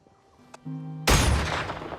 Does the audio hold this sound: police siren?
no